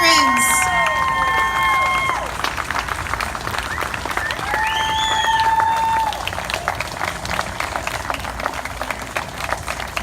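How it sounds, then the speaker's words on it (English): Crowd applauding veterans at a ceremony, sustained dense clapping with some cheering and background chatter, loud and continuous throughout, with scattered whistles or tones early on. "Another round of applause for our amazing veterans."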